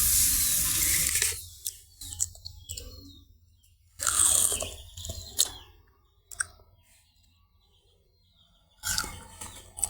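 A sweet, sour and spicy olive pickle is stirred in a pan with oil, making intermittent crunchy scraping bursts separated by quieter gaps, close and fairly loud.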